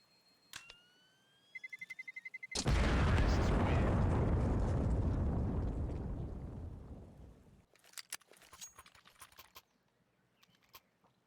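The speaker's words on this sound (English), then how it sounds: "Bomb officially detonates." A bomb detonates in an esports video game match as a sudden loud boom that rolls and fades over several seconds, with beeps before it and keyboard clicks around it.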